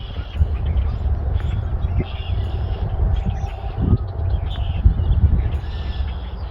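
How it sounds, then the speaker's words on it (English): A flock of grackles calls repeatedly with harsh, squeaky chatter, fairly close, over a low outdoor rumble and occasional thumps. "A lot of grackles."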